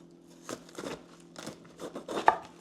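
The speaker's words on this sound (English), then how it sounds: "For the Napa cabbage, I'm going to use my knife, cut them at the roots." A kitchen knife cuts Napa cabbage at the roots, making a few soft crunching slices and crisp crackles in quick, irregular succession, close and fairly quiet.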